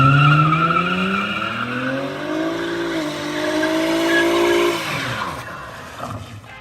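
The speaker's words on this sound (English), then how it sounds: "A video of you doing a burnout." Burnout in an older V6-powered Dodge Charger Hellcat-styled car: engine revving hard with loud, sustained tire squeal rising and shifting in pitch for several seconds, then easing off near the end.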